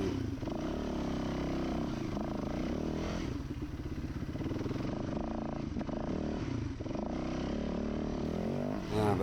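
A dirt bike engine labors and revs continuously on a hard enduro trail at Donner, loud and close throughout, with throttle surges and brief dips as the rider picks through the section, plus some clatter of the bike over terrain.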